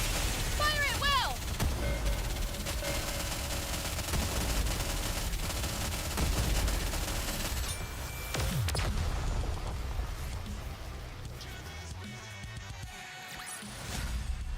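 A gunfire volley in a video game, rapid overlapping shots and crashes layered over loud game music and effects, with in-game voices talking over parts of it.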